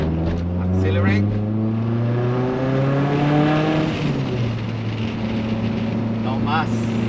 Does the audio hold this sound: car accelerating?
yes